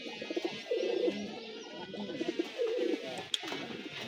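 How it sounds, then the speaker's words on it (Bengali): Pigeons coo inside a pigeon loft, with repeated low, rolling bursts that rise and fall over a few seconds, close to the listener, alongside a few faint chirps and no talking. "আর দেখেন আমার লাল বোম্বাই আর ডাক দেখেন।"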